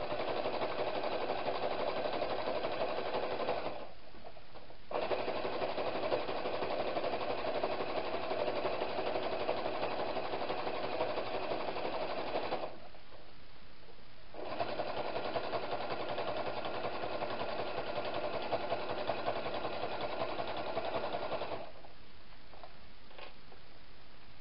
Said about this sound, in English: you could do a straight stitch, you can do a fancy stitch, you can do a blind hem stitch